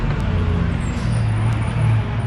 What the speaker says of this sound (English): oh look, fire truck